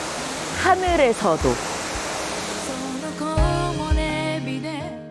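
Shiraito Falls at the foot of Mount Fuji pours with a steady, broad rushing wash, heard throughout beneath a speaking voice and soft melodic tones.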